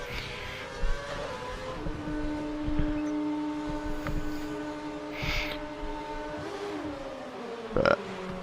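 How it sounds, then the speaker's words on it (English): Formula One car in the F1 2012 video game at the Abu Dhabi round, its engine droning steadily with sustained tonal whine and pitch shifts as it enters the pits, with a brief louder burst near the end. "It's me and Schumacher dive into the pits here."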